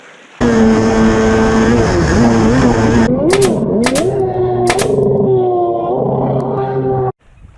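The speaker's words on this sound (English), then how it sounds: "Digging the 720 old school race engine." A loud 720cc big-bore race engine on a JS550 jet ski drones and revs over flat water, pitch rising and falling, with a few sharp bursts, then cuts off abruptly near the end.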